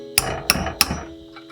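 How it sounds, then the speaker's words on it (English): Three sharp metallic hammer strikes land on a wrench set over a rubber washer while a motor bearing is knocked out, evenly spaced about a third of a second apart, close and ringing, with no talk. "put the wrench on top of the rubber washer, and go ahead and start hammering out"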